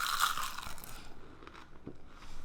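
A bite into a spring roll filled with mayo and kimchi, giving a close crisp crunch followed by quieter chewing, with no talking.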